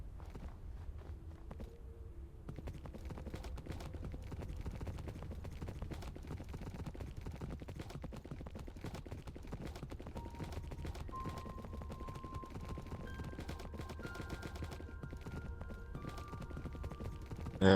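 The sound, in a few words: horse hooves clip-clopping in Minecraft video game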